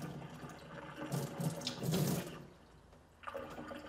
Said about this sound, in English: rinse the inside, including its cover, three times with water to be tested